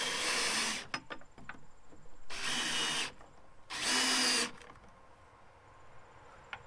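A power drill drives a bolt into a six-foot fence panel being made into a gate, three loud close whirring bursts of about a second each, with short pauses and small clicks between them.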